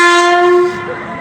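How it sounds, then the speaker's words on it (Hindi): Passing train sounding a loud, steady horn blast close by that drops off toward the end, a sustained tonal note over low rumble. "तो भाई वो ट्रेन जा रही है ना, उसी ने आवाज़ किया।"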